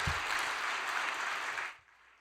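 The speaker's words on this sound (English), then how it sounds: "Why don't we give a big round of applause to our sister of encouragement" A short burst of audience applause at a church gathering, a dense even patter of many hands that holds steady, then stops abruptly and leaves near silence.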